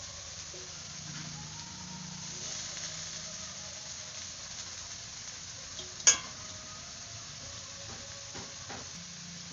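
Boiled banana flower (mocha) with turmeric frying in a pan gives a soft, steady sizzle with faint stirring scrapes and one sharp utensil clack partway through.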